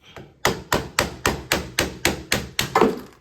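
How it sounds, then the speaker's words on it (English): Nine sharp hammer blows strike a rusted arcade joystick at a steady, even pace, each ringing briefly before the next; close and loud, with no talking. "I'm probably gonna pop it out with a hammer"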